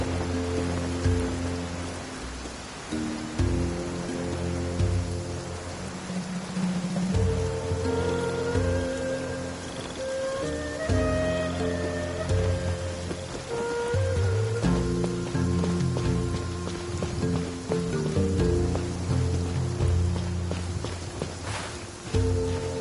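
Soft, continuous rain patters across surfaces in a video game world, with a musical score of sustained tones and melodic notes playing over it; no talking, fairly quiet throughout.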